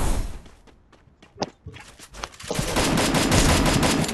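Battle royale game gunfire as several squads fight, scattered sharp shots early giving way to a dense, loud, sustained burst of automatic fire in the second half.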